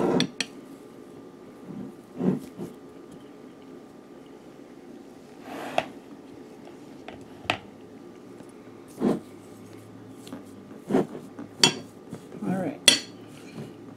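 A utensil scrapes and knocks chilled cookie dough apart in a cast iron pan, producing scattered clinks and dull taps spaced irregularly over quiet room tone.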